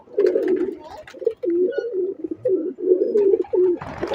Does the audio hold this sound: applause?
no